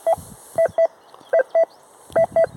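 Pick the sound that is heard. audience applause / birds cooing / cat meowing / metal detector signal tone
metal detector signal tone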